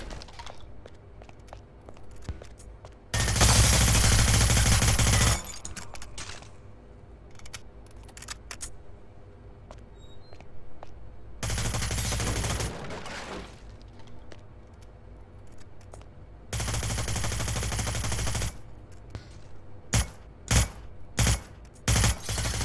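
Bursts of automatic gunfire from guns in Hitman: Blood Money, including an MP7, in three long sustained volleys and then several short rapid bursts near the end, loud over a quieter game ambience.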